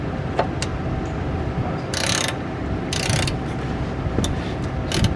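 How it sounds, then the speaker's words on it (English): Ratchet wrench working a bolt loose on a first-generation Toyota Sequoia during an oil change, with two loud bursts of rapid clicking over steady background noise and a few sharp metallic taps. "Had to break out the ratchet, but you got it loose"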